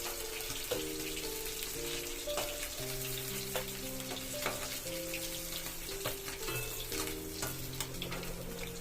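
Rohu fish frying in oil in a pan: a steady, dense sizzle with faint clatter runs throughout at moderate level, overlaid by quiet tonal background music and no talk.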